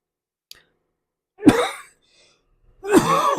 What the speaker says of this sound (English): I hate being on here coughing